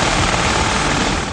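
An MG42 machine gun fires one dense, unbroken burst at a very high rate, so loud and fast that the shots blur into a harsh continuous roar.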